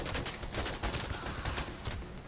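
Gunfire in a bank robbery video game, a dense, rapid volley of overlapping shots with a fairly even rhythm, sounding somewhat distant and muffled.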